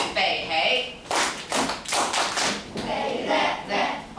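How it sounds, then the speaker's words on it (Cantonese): A classroom of students claps together in a burst of steady applause lasting several seconds, close and fairly loud, with a brief voice at the start. "我哋俾掌聲好唔好啊"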